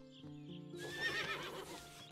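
A horse in the video game Above Snakes gives a loud, shuddering whinny lasting about a second, heard close up with faint hoof clip-clops and no talking.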